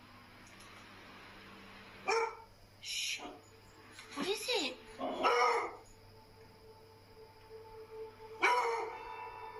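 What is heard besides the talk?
scared dog growling and barking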